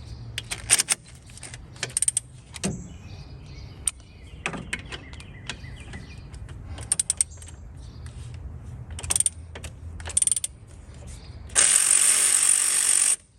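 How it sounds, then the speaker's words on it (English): A ratchet loosens the top alternator bolt on a Toyota Corolla during an alternator replacement, giving scattered close metallic clicks and clanks in short bursts, then a steady loud run of rapid ratcheting near the end, with no talking. "loosen the top bolt on the alternator that's hooked up to the belt tensioner"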